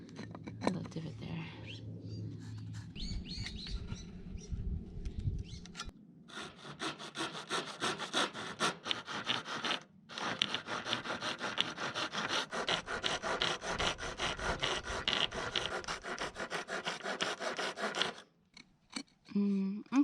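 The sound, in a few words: chopping out a divot in wood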